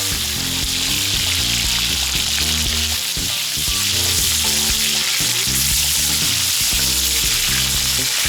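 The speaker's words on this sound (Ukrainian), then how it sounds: "Спочатку Максим смажить сало порізаними великими шматочками." Loud, continuous sizzling of large pieces of pork fat frying on a disc pan, crackling steadily with occasional stirring scrapes, no talking.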